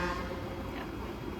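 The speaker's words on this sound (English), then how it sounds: "that wasn't even an angry honk" A car horn gives a single sustained toot, fairly close and steady, at an outdoor abalone farm with low background noise beneath it.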